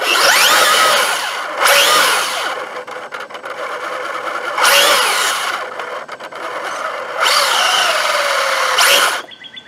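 A Traxxas Rustler VXL 2WD RC car climbs an incline with its electric motor whining loudly. The motor surges in repeated bursts with brief dips in between.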